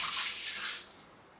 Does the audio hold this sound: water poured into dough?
yes